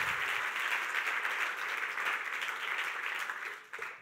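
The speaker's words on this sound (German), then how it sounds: "Geben wir ihnen einen lauten Applaus aus dem Kalkofen raus" A church congregation gives loud, sustained applause for about four seconds, a dense wash of many clapping hands that fades slightly at the end.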